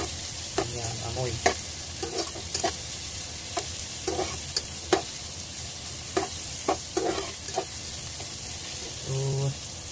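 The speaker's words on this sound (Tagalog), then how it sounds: "para gisahin natin ang ating mga hiwang papaitan" Sliced papaitan, beef innards, sauté in a pan with a steady close sizzle, broken by repeated scraping and knocking of a spatula stirring them, with brief murmured voices at moments.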